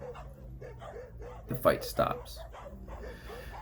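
A dog whimpers and yelps during a scuffle as another dog disciplines it, two sharp louder cries standing out near the middle while someone talks over the whole stretch.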